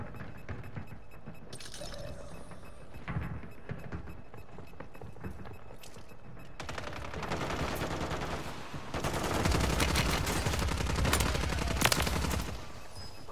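Gunfire in the video game Warzone, starting as scattered distant shots and then swelling into loud, dense automatic bursts that grow nearer and more intense toward the end, with no talking.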